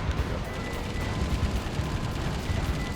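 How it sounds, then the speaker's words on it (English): Sustained rapid chain gun fire in the video game Metal Wolf Chaos XD, a continuous dense rattle of shots with a heavy low rumble, loud and close for several seconds. "Chain gun of old."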